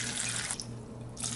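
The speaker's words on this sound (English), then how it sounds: "I'm gonna pour a little bit of water." Water poured into a pot of chiles for red beef-tripe menudo, a bright, steady splashing stream that eases briefly midway and then picks up again, close by with no talk.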